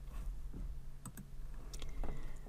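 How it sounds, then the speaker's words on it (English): A computer mouse clicking: a few faint, quick clicks heard close amid quiet room noise, with soft typing-like taps, no talking. "We're going to click on that."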